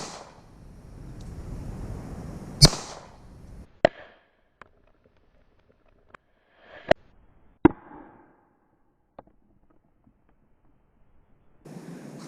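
Shots from an M&P 2.0 .40 caliber pistol firing Federal Punch hollow point rounds at water balloons: several sharp, loud single bangs spaced irregularly over outdoor wind noise, with short echoing tails.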